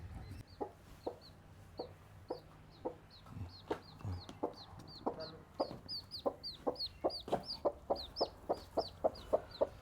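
Hens cluck in quick repeated bursts, growing denser and more rhythmic toward the end, fairly close with faint background noise and no talking. The hens are hatching chicks from eggs.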